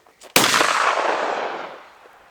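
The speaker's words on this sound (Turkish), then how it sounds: "Eğer şu an tetiğe basarsam silah patlar. Hatta bir patlatalım." A custom-made hunting shotgun fires a single sharp, loud blast outdoors that rings out and fades over about two seconds, with a faint click just before.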